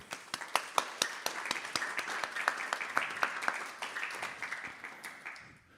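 A small audience claps steadily after a devotional performance, crisp individual hand claps close by, slowing and fading out toward the end.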